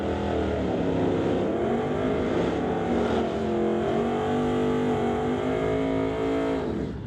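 A drag racing run down the strip in the Sportsman category, likely a Chevy, with a steady loud engine roar that swells and sweeps in pitch for about seven seconds before easing off at the end.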